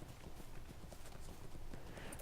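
Rapid, steady hoof clip-clop of a full-speed goat mount in Lord of the Rings Online, continuous galloping footfalls over a dense game soundscape, loud and close throughout.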